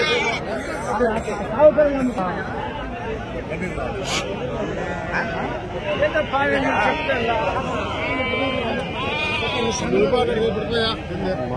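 Gudur sheep at a busy livestock market bleat repeatedly, several overlapping calls near and far, while people chatter and bargain loudly throughout.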